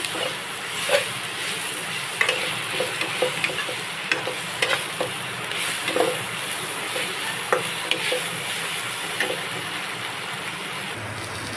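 Fish curry with tomato, salt and turmeric powder sizzles in a pan while a spatula stirs it, giving repeated scraping clatters over a steady frying hiss, with no talk.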